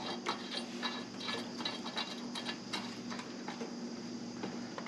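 A bolt is threaded in by hand while a GIVI crash bar is fitted to a Moto Guzzi V85TT motorcycle, making quiet, close clicking and ratcheting in a fairly regular rhythm over a steady low background.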